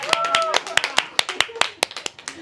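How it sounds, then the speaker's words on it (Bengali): A group claps hands during a cardio workout, sharp, evenly spaced claps about every quarter second. A voice is heard briefly at the start, then the clapping continues alone and close. "হাততালি হাততালি হাততালি সবাই প্লিজ।"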